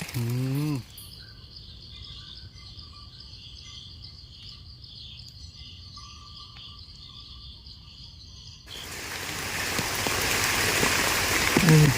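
Heavy rain falls through a forest in the hills of Mae On, Chiang Mai, a steady hiss that grows louder and denser near the end, with insects chirring beneath it.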